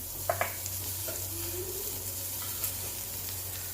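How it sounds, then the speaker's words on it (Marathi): Chopped small onion dropped into a hot kadhai, frying with an even close sizzle, a couple of sharp ladle taps early on and light stirring throughout, no voices. "याच कढईमध्ये एक छोटा कांदा कट करून घेतलेला ते टाकून घ्यायचं"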